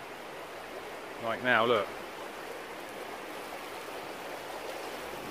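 Water flows steadily beneath a rickety bridge in Bulgaria, a soft, continuous rushing murmur heard close by, while a person briefly speaks over it.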